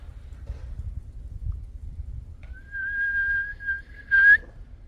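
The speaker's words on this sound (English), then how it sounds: "here is where I'll actually make this blade of grass whistle" After quiet outdoor rumble, a thin reedy whistle sounds, held steady for about a second and then ending in a sharper, louder squeal.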